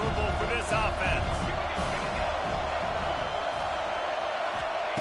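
Crowd noise fills a college football stadium in a video game, a dense, steady roar of many voices with a few louder shouts near the start, continuous and fairly loud throughout.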